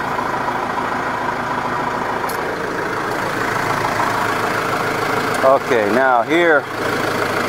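Tractor engine idling at about 700 RPM while pulling a box blade over a gravel driveway, a steady low rumble throughout, with someone speaking briefly near the end.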